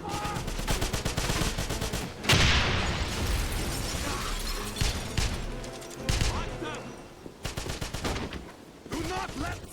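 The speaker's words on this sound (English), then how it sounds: "Suppressing fire!" Intense gunfire in the Wolfenstein game: rapid machine-gun bursts and single shots with explosions, loud and close, with shouting voices mixed in.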